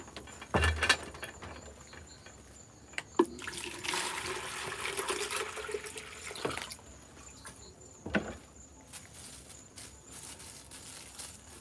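Tap water runs steadily into a sink during washing up while Jamaican soup is made late at night, a broad rush in the middle with clatter and knocks before and after.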